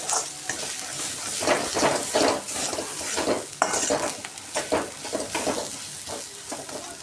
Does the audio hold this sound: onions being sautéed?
yes